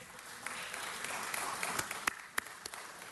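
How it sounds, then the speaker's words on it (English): Audience applause fills a city council meeting chamber, a steady, fairly quiet wash of clapping with a few sharper individual claps standing out near the end. "Let's give them a huge round of applause."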